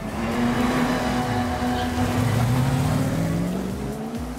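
A Volvo touring race car fitted with the 2014 model nose roars steadily and loudly, its engine note climbing in pitch as it accelerates, with no talk.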